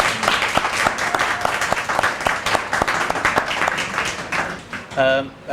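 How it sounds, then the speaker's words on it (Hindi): An audience applauds with dense, steady clapping for several seconds at a school farewell event, followed by a brief voice at the end. "तो तालियां उनके लिए भी बजाएं।"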